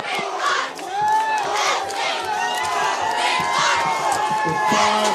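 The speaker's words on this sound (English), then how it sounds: "Listen to this crowd." A high school football crowd roars and cheers in the closing seconds of a game between SSFHS and Leland, a loud, sustained wall of shouting voices and whoops with no break.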